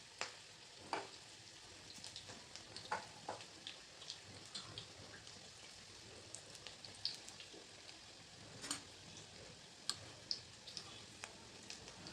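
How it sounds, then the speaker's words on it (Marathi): Medium-sized balls of cabbage bhaji batter fry in hot oil, giving a steady soft sizzle scattered with sharp pops and crackles, close and fairly quiet with no voices. "आपलं तेल गरम झालेलं आहे त्यामध्ये मध्यम आकाराचे गोळे तळून घ्यायचे"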